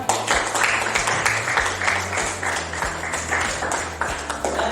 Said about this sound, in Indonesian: Kasih tepuk tangan dulu untuk Zia.